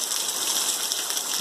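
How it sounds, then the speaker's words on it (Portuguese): Steady rain falling on a countryside smallholding and soaking the crops, a continuous bright hiss with no breaks and no voices. "Olha que beleza de chuva."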